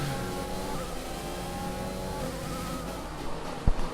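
Race car engine in the FlatOut racing game on a Spain track, a continuous buzzing engine drone at steady volume with a brief thump near the end.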